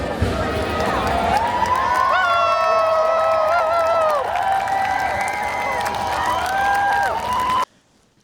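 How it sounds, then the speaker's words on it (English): Crowd cheering and whooping at an ancient British festival as a dance ends at its halfway point, many voices shouting together at full volume, then cutting off abruptly. "when the dance ended for halfway, everybody was cheering"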